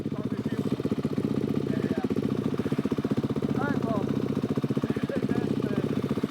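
A dirt bike with a faulty carburetor idles nearby with a rapid, lumpy putter, its engine note wavering and bogging, while voices talk over it.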